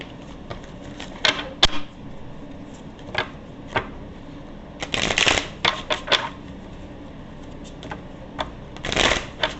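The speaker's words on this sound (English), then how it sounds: "I feel I need to cut these cards." A deck of tarot cards is cut and shuffled at close range, with bursts of riffling flutters and crisp slaps spaced unevenly between quieter pauses.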